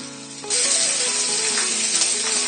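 Chopped ginger, green chili, garlic and curry leaves dropped into hot oil for a wild lemon pickle start a sudden bright sizzle that continues steadily and loudly, over a faint musical tone in the background.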